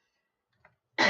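A single loud, harsh cough from someone suffering spring allergies bursts out close by near the end, preceded by a faint short throat sound after near-silence.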